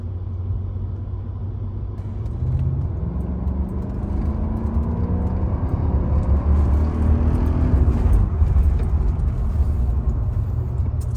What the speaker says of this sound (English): that'll end this video segment with the short drive on the 500E